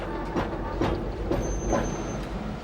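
A 40-ton railway carriage is pushed by a shunting engine in a North London railway yard, rumbling steadily with soft rhythmic clicks of wheels over rail joints.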